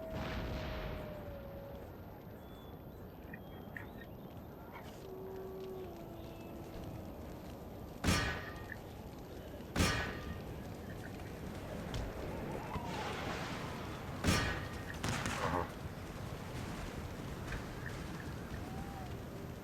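Scattered gunfire and artillery from a Napoleonic-era battle in Empire: Total War, a few sharp distant booms standing out over a steady rumbling din.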